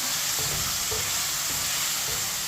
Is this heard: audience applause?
no